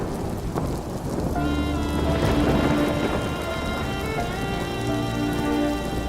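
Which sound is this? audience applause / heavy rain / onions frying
heavy rain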